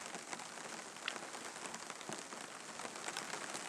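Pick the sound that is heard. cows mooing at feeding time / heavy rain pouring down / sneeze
heavy rain pouring down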